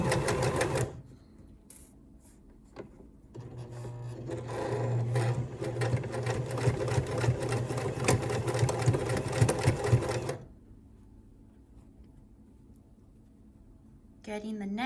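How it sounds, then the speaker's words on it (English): A sewing machine back stitches a quarter-inch quilting seam, running steadily for about seven seconds with a brief start and stop, then falling quiet; rustling handling noises surround it. "sliding it under the presser foot, back stitching,"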